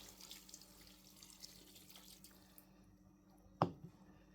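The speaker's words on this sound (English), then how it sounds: "So I'm going to add water." Water from a tap runs faintly into a pot of Nigerian edikang ikong vegetable soup, a soft, quiet stream that stops, followed by a single sharp clunk.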